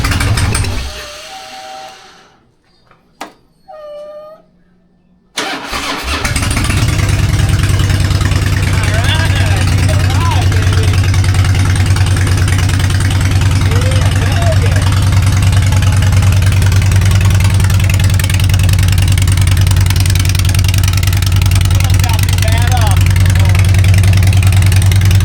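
2004 Harley-Davidson Fat Boy motorcycle, after sitting for a year, starts after a few seconds of quiet clicks and brief cranking, then settles into a loud, steady, loping idle; someone talks briefly before it starts.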